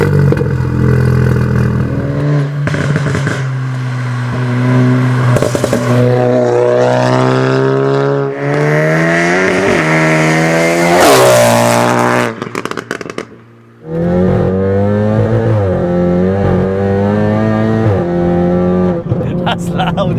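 A 520 BHP big-turbo Cupra fires up and revs hard, loud and close, with rising and falling engine sweeps, a brief drop to near silence, then renewed throaty revving as people talk over it.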